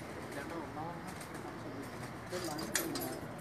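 Pigeons coo and flutter faintly nearby as they land and settle at night in Jeddah, Saudi Arabia, while someone talks in the background, with a brief burst of wing flapping near the end.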